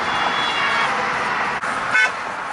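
A car horn gives one short, loud honk near the end, over a steady road and engine rumble inside a moving car during a girlfriend prank.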